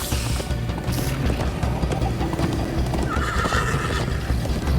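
A horse in Minecraft: Story Mode whinnies sharply as hooves clip-clop in a fast, rhythmic gallop, with a second whinny rising near the end over the thudding hoofbeats.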